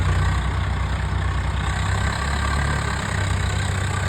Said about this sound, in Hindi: फाइनली हमने भी ट्रैक्टर स्टार्ट कर लिया है।